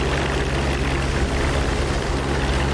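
Steady, loud drone of a P-47D Thunderbolt's radial propeller engine in the DCS World flight sim, a continuous low rumble with a broad airy roar over it and no pauses.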